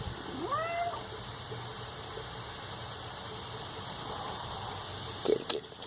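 A cat meows a few times near the start, outdoors in a backyard, with a faint steady insect-like hum throughout and a brief handling noise near the end.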